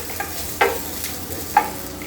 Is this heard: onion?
yes